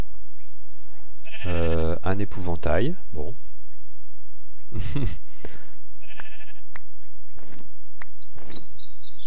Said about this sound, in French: Ok, du mouton.